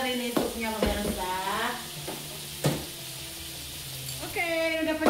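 Hot oil sizzles in a frying pan with a steady hiss, mixed with scraping stirs and clatter, close and moderately loud while a voice talks over it.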